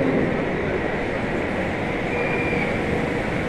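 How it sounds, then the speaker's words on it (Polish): A train rumbles steadily as it departs from a Kraków station toward the locomotive depot, a broad continuous roar with a faint high whine and no distinct pauses. "Odjeżdża prawdopodobnie do lokomotywowni, do bazy albo na tor postojowy."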